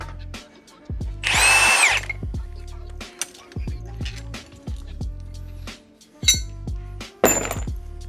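Large impact gun breaking loose stubborn bolts on the AC compressor and power steering brackets of a Nissan VQ35DE V6 engine teardown, loud repeated hammering bursts with metallic clinks between them.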